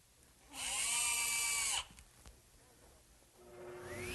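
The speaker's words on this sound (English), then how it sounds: "I'm going to take the piece of hardboard and screw it to the plywood" Power drill driving a screw through hardboard into plywood in a workbench shop, one loud steady whine of just over a second that winds down, followed by a quieter, shorter whir near the end.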